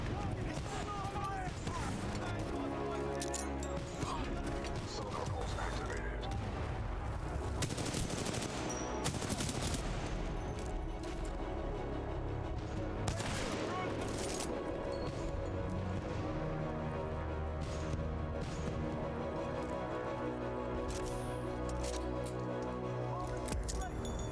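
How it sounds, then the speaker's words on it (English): Supporting fire from the titan BT in Titanfall 2, sustained bursts of heavy automatic gunfire and blasts over a dense battle soundscape, loud and continuous, with voices speaking over it. "Commencing supporting fire."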